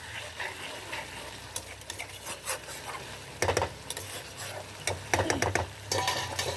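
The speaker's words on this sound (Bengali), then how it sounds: "তো মাঝে মাঝে তলার দিকে করে আস্তে আস্তে করে একটু নেড়ে দেবেন।" Stirring of a tomato and puti fish curry in a pan: soft scraping and rubbing strokes with a faint sizzle underneath, growing busier and louder toward the end, with no talking.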